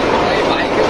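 The 12331 Himgiri Express from Kolkata runs at speed, filling the space with a loud, steady, broadband rumble and rushing noise throughout.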